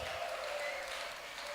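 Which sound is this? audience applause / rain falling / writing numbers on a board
audience applause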